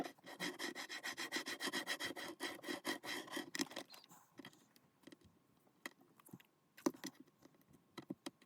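Fast, dense rubbing and scraping as a vintage Varney F2 HO scale metal model train truck is cleaned with rubbing alcohol, busy strokes first, then sparser sharp scrapes and clicks.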